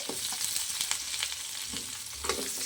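Thinly sliced long onions and cumin seeds sizzling in hot oil for vegetable fried rice, a steady loud crackle with occasional stirring scrapes of the spatula.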